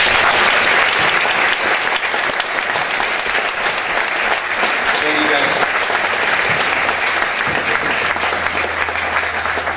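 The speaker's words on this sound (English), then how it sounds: "So if you guys give them a round of applause, that'd be great." A crowd at a high school mock crash event applauds the student helpers with loud, sustained clapping throughout, while a voice briefly speaks over it.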